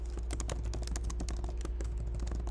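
Quick, continuous keystrokes on a computer keyboard while code is written, with irregular clicky taps close to the microphone over a low steady hum.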